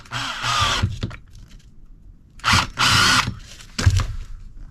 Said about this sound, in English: So I'm going to drill a hole right in the centre